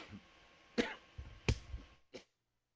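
A man coughs in a quiet room: several short, sharp coughs spaced out over a couple of seconds, fairly faint, with no talking.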